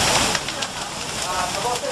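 Fire burning two boarding-house buildings at night in a dense residential area of Padang, West Sumatra, with a steady roaring crackle throughout, under a talking voice.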